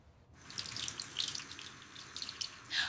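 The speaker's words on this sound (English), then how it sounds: "I wash the vegetables." Running tap water splashes over vegetables being washed at a kitchen sink, starting abruptly as a steady, close hiss with irregular spattering bursts and no speech.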